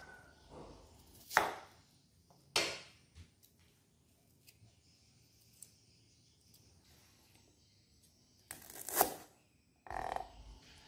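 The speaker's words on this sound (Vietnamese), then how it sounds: "Hành tây mình cắt múi cao" A few sharp knife chops through onion on a cutting board, spaced irregularly with quiet gaps between them.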